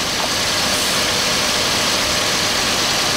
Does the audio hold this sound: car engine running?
yes